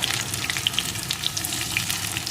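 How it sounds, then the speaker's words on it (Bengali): Potato, onion, chopped tomato and slit green chilies fry in a pan for an egg-onion dish, giving a continuous close sizzle with scattered small pops and crackles. "এগুলোকেও একটু ভেজে নেব"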